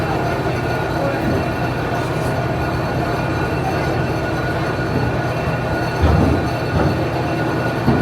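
Continuous loud rumble of a historic train pulled by locomotive number 7069, built in 1942, with rolling wheel noise and faint squeals, steady throughout, heard from on board at the Georgia State Railroad Museum in Savannah.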